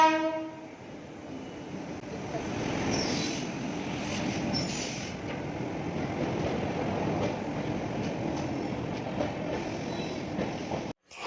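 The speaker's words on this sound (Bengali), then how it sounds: "এই যে আমাদের ট্রেন এসে গেছে।" A train pulls into a station, its horn sounding near the start over a steady rumble of wheels and carriages, with clickety-clack and faint wheel squeal running for several seconds before a brief drop at the end.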